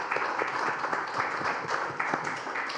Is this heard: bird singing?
no